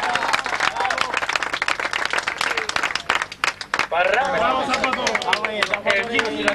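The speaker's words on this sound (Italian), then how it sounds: "Bello applauso a Barrago" An audience at a cycling race ceremony in Paceco applauds with loud, dense clapping that dips briefly and then surges again, while voices talk over it.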